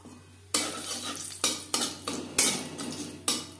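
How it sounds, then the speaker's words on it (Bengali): Black cumin seeds frying in oil in a wok, a crackling sizzle broken by several spatula scrapes and clinks against the pan, close and fairly quiet. "15-20 সেকেন্ড কালো জিরে ভেজে নেওয়ার পর দিয়ে দেবো মশলার পেস্ট"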